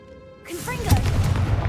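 A blasting spell in Hogwarts Legacy bursts into a loud, booming explosion with a rushing roar that follows, after a shouted spell word and a brief tonal hum.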